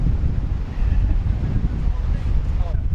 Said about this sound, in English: The wind is a little crazy up here.